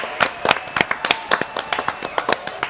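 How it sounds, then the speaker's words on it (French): Studio audience applause at a French live show, a few clusters of hand claps in an uneven rhythm, fairly close and moderately loud, with no talking over it. "Applaudissements."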